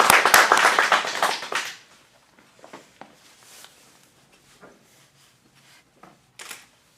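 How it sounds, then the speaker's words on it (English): A small acting-studio showcase audience claps loudly for a couple of seconds before the applause quickly fades, leaving scattered faint claps and small shuffling sounds in a quiet room. "Let's give a big round of applause"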